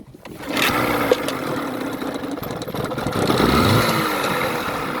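An 8hp Johnson two-stroke outboard motor, choked, in neutral and at full throttle, cranks and catches, then runs steadily at a loud, buzzing, high-revving pitch close by.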